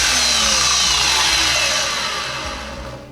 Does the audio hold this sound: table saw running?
yes